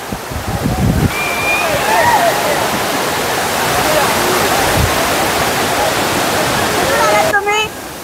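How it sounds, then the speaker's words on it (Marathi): Savatkada waterfall near Rajapur in the Konkan, set among dense trees, roars with a steady, loud, close rush of falling water throughout, while people talk over it. "खूपच मस्त धबधबा आहे"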